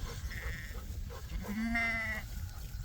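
A single sheep bleats from a mixed flock of farm animals outdoors, one short wavering call over steady background noise.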